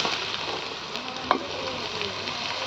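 Okra curry sizzling in a pan on a stove, with a steady crackling hiss of frying and one brief clink partway through, soft and continuous with no talk.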